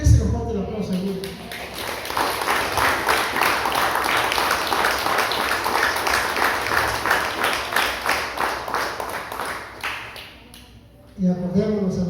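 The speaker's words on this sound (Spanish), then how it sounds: "Déselo fuerte el aplauso a Dios." Church congregation applauding, a loud sustained burst of many hands clapping for about nine seconds with rhythmic pulses, fading out, with a preacher's voice before and after.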